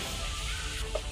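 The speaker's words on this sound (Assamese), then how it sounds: "এই গৰম হৈ আছে তেল, পূৰা উতলি আছে" Hot oil heated until boiling in a pan, held close as a brief continuous sizzling hiss with a faint crackle and pop near the end, and no voices.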